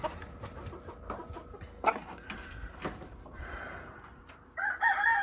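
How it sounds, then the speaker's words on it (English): Chickens cluck and murmur nearby, with scattered sharp calls and a louder squawking rooster crow toward the end. "all the chickens came to help"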